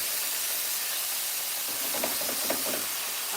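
Sam's homemade salsa hitting a hot pan, giving a steady, loud broadband sizzle and steam hiss throughout, with a few brief spatters and pops near the end.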